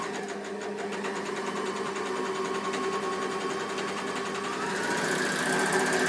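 A Bernina L450 overlocker stitching down the side of fabric, a fast steady mechanical whirr and rapid needle chatter running continuously at close range, slightly rising in speed toward the end.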